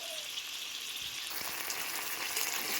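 Chilli powder and turmeric sizzle loudly in hot oil in a pan as the masala is fried. The broad, crackling hiss swells midway and holds steady, with light spatula touches and no voices.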